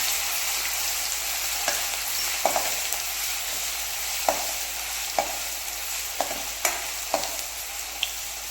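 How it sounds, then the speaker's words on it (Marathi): Roasted green chillies frying in a pan are stirred with a spoon. Soft scraping clacks recur every half second or so over a faint steady sizzle, close and gentle, with no talking. "आता मिरची भाजली आहे आपण घ्यायचं आहे आता आपल्याला मिक्स करून घ्यायचं आहे"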